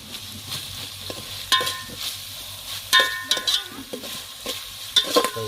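Tomato, coriander and mint roast in hot oil with a soft sizzle, while a spoon scrapes and clanks against the pan in several sharp strokes.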